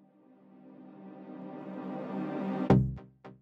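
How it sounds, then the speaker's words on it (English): A reversed synth swell with heavy reverb builds gradually from near silence into a louder washed tone, then cuts off into a few short sharp hits with brief pauses between them. "I exported the synth with a lot of reverb, reverse it to have this small effect of the synth coming in"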